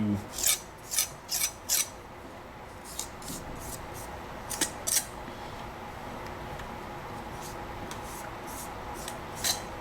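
A trowel drags Conproco Matrix repair mortar across a surface in short raspy strokes, a quick cluster of scrapes at the start followed by a few more spaced passes over a faint background hiss.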